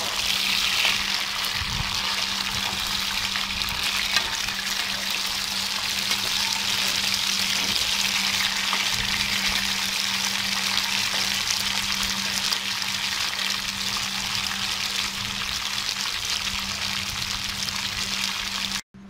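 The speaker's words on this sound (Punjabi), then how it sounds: "ਇਹਨੂੰ ਹੁਣ ਅਸੀਂ ਇੰਨਾ ਕੁ ਪਕਾਵਾਂਗੇ ਕਿ ਕੱਦੂ ਤੇ ਐਲੋਵੇਰਾ ਬਰਾਉਨ ਹੋ ਗਿਆ।" Pumpkin and aloe vera frying in oil in a pan, a dense, steady hiss of sizzling that keeps going without letup, close and even, with a faint low hum underneath and no talking.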